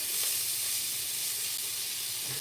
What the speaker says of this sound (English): Also about time to flip my meat.